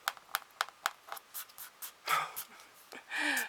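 Colored pencils scratch across paper in quick rhythmic strokes, a run of short close rasps followed by a few longer, broader shading passes, with soft breathy sounds near the end.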